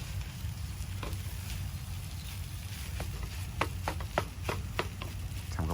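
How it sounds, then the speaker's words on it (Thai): Food sizzles steadily in a hot pan while being stir-fried outdoors at a picnic by Bang Phra reservoir in Chonburi, Thailand, with a few sharp clicks of a utensil scraping and stirring near the end. "ผัดให้งวดให้แห้ง"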